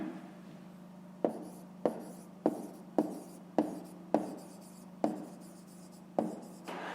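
Handwriting on paper during a fifth-grade maths exercise, a series of about nine distinct scratchy pen strokes in an uneven rhythm, close and fairly quiet against a steady low hum.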